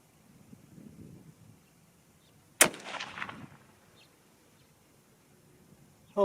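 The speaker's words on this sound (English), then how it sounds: "this is the first time that I've shot these bullets through this rifle" A single sharp rifle shot from a Seekins Havoc rifle, outdoors, cracking loudly and then rolling away in a brief echo over light wind, with quiet ambience and a faint bird call, and another sharp sound at the very end.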